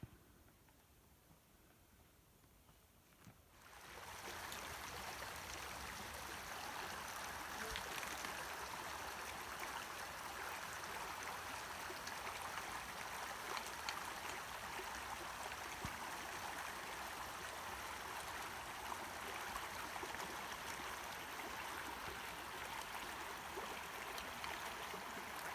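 Rock Creek on the John Muir Trail rushes steadily and loud with broadband water noise, constant and close after a few seconds of quieter lead-in.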